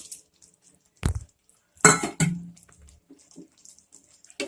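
Fried cauliflower is stirred into sauce in a pan for chilli gobi, giving a few close metallic scrapes and clatters of a utensil against the pan, with quiet gaps between them.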